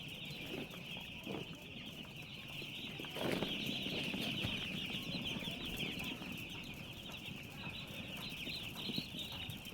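Two-day-old chicks in a brooding shed chirp and peep faintly, a steady overlapping twitter with occasional soft rustles of movement.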